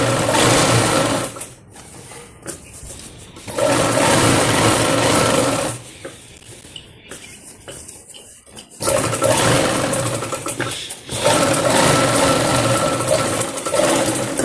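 A sewing machine stitches a folded seam on a Patiala salwar, running in loud, steady bursts of mechanical whirring separated by short pauses, close up and alone.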